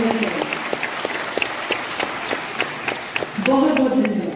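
An audience applauding to welcome the Chief Minister and Education Minister of Himachal Pradesh at a launch event, with scattered, uneven claps rising and falling and voices heard near the end.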